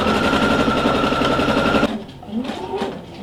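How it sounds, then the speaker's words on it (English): A sewing machine stitches a seam joining fabric pieces for a pair of shorts, running in a steady loud rapid whir for nearly two seconds before stopping, followed by quieter handling sounds. "Make sure you back stitch at the beginning and remove your pins as you go"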